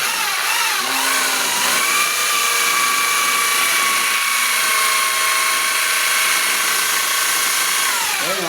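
A drill mixer stirring dishwashing liquid soap in a bucket whines steadily and loudly without pause, its motor pitch holding level with slight shifts as it churns.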